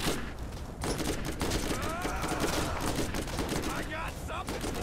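Rapid gunfire from a Borderlands shooter game, dense bursts of shots and crackling impacts over a busy, noisy mix, with voices talking underneath.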